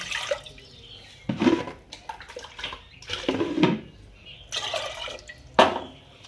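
Water poured from a cup into a cooking pot on a lit gas stove, a few separate splashy pours with quiet pauses between, close and fairly soft.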